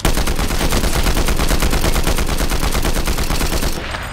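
Combat Assault Rifle in Fortnite fires one long, loud, uninterrupted burst of rapid automatic shots, close and dense, ending abruptly with no voices.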